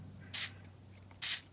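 Two short, bright bursts from a spray can in a junk-journal craft session set in an antique-garden theme, each about a fifth of a second long and spaced roughly a second apart, close by over a low steady hum.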